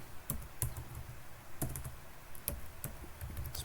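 Fingers type on a computer keyboard, soft clicky keystrokes in short irregular bursts with pauses between, close and quiet with no voices.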